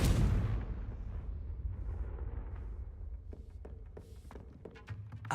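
A Confringo spell in the video game Hogwarts Legacy bursts with a loud, deep explosive boom at the start, then fades into a rumbling tail with a few scattered thuds and clicks.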